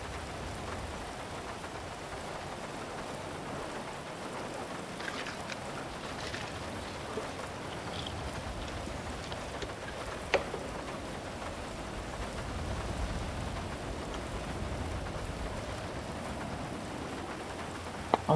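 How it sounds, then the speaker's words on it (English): Rain from the GTA Online game plays through a game controller's speaker as a steady, even hiss of falling drops that runs unbroken for the whole stretch. It stays fairly faint, with no talking over it. "It's my controller. It's making the noise of the rain."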